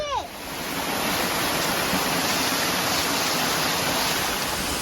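A waterfall in the Ouachita Mountains roars as a dense, continuous broadband rush, steady and fairly close, with no voices over it.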